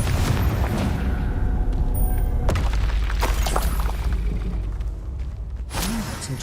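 A Confringo explosive spell goes off in a hard-difficulty Hogwarts Legacy battle: a loud booming blast with whooshing bursts, layered over dense, continuous combat noise with no clear speech.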